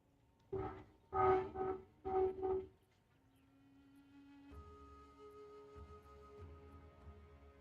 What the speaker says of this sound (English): Just waiting for the train to pass.